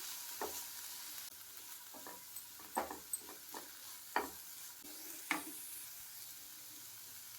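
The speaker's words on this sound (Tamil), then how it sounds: "இப்போ இதெல்லாமே ஒன்றா சேர்த்து கலக்கி விட்டுருவோம்." Chili powder, garam masala and salt stirred together in a pan for egg bites, a spoon scraping in scattered soft strokes over a faint background hiss, fairly quiet and close, with no talking.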